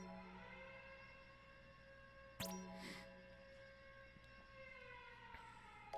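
Sirens in Final Fantasy Type-0 HD hold long steady tones under game sound, with a sharp burst partway through, a brief rising sweep just after it and a few faint clicks.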